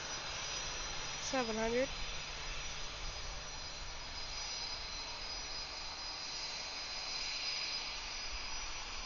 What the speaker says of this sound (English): Here goes the Southwest 737.